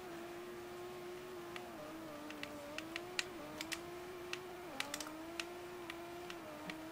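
A Nissan S15 drift build in Forza Motorsport 4 holds a steady, fairly quiet engine note near redline, wavering slightly in pitch, with sharp clicks scattered over it.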